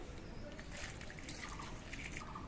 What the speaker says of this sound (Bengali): এবার লাউয়ের পিসগুলো আমি ধুয়ে নিচ্ছি